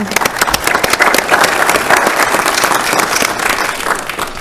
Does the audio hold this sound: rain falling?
no